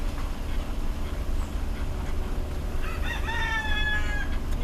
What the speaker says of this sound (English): Yeah, that's the sound of a rooster.